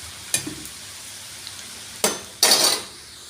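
Snacks deep-frying in hot oil give a low, steady sizzle under a few short, sharp clatters of a utensil scooping or stirring. There is no talk.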